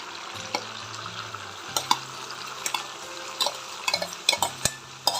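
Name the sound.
stirring rice in a pan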